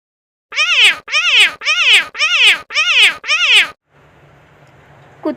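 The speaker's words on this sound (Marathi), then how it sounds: "मांजर" A domestic cat meows six times in a steady, evenly spaced series, each call loud and close with a rising-then-falling tone, followed by a quieter stretch of faint background noise.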